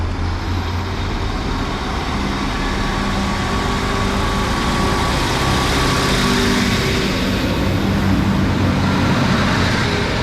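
A class 156 diesel multiple unit departs a station, its engine building into a steady low rumble that fills the platform with constant noise and no talking.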